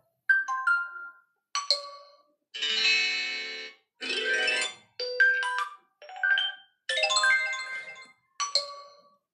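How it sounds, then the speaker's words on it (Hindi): A bright electronic ringtone melody of short chiming tones and a few sustained buzzy notes, repeating in quick phrases with brief gaps, loud and close. "तो ये वाला रिंगटोन मेरे को काफ़ी अच्छा लगा"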